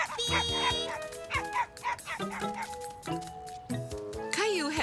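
Barking from the spotted puppy in a Caillou cartoon: several short, close yips and bow-wows broken by brief pauses, with a whimpering rise near the end.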